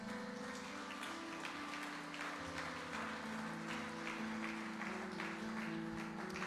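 A church congregation applauds for Jesus during a sermon, a faint, continuous spatter of many hands clapping over a sustained low musical backing.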